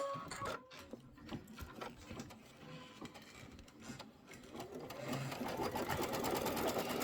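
Embroidery machine sewing a placement stitch through quilt background fabric and batting, a close rapid rhythmic mechanical chatter that starts with some clicks and settles into a steady, louder whir by the end.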